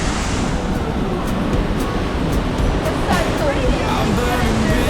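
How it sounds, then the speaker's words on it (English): A raging, flooded river in Rotorua, running so high it has spilled over a viewing platform, roars as a steady broadband rush throughout, with faint voices and a hint of music in the background. "The river is raging."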